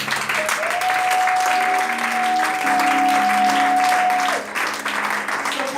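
A church congregation applauds in sustained, dense clapping at loud, close range, with a steady tone and voices mixed into the crowd noise.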